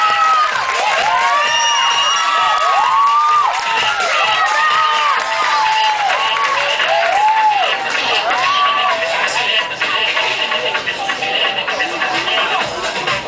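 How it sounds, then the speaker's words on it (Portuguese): Crowd at a children's pageant, Miss Mirim Estado do Rio de Janeiro, cheers loudly with high children's shouts and whoops over steady clapping for about thirteen seconds of continuous, dense noise. "Salva de palmas."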